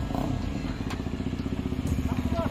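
A KTM Adventure 250 motorcycle fitted with a loud custom exhaust idles close by with a rapid, throbbing, crackling exhaust pulse that keeps steady throughout.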